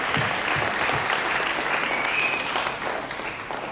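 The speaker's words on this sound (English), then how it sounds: "please give them a round of applause from me to all of you today" Round of applause from an audience at a U.S. Polo Assn. launch celebration night, dense steady clapping that carries through, slightly tapering toward the end, with no voices over it.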